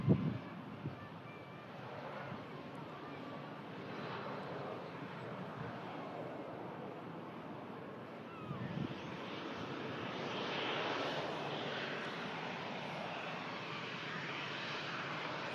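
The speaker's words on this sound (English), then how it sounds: "Aircraft arriving in from Emirates" An Emirates airliner comes in to land, its engines a steady, faint, distant roar that swells slightly partway through, mixed with some wind noise.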